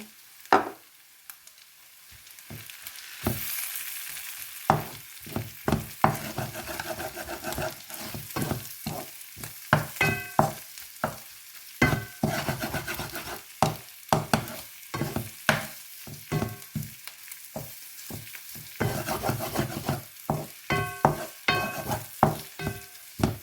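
Egg and chicken frying in a pan for capsicum noodles: a steady sizzle broken by frequent sharp scraping and clattering strokes of a spatula stirring, close and clear with no talking.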